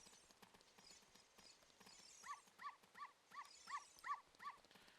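Dog barking in The Legend of Zelda: Ocarina of Time, a string of about seven short, evenly paced barks following scattered clip-clop-like game sounds, fairly faint overall.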